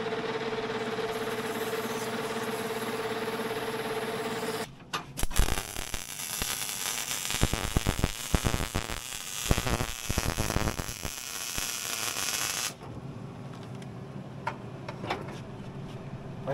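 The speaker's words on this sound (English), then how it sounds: "Clearing the rust off so we can weld that up." Rust being polished off a metal whip-handle shaft with a power tool: a steady motor hum gives way to a loud, harsh, rasping grind lasting about eight seconds, then the hum returns.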